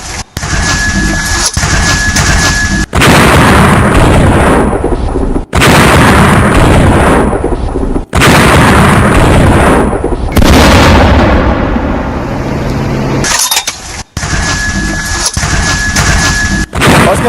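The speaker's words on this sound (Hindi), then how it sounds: "लगातार उन पोस्ट पर जो धमाके हैं उसकी आवाज अभी तक कानों में आ रही है" Heavy explosions and bursts of gunfire strike Pakistani army posts in a military assault, arriving as loud repeated booms and crackling blasts in separate chunks, each cut off abruptly, with no voices.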